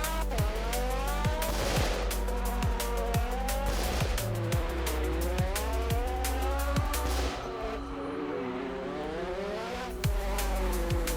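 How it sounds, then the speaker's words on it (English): A Porsche in a Roblox racing game drifting around a track, its engine revving up and down in repeated sweeps while tires squeal through the turns, with a short drop in intensity near the end before the engine picks up again. "We do drift quite a bit."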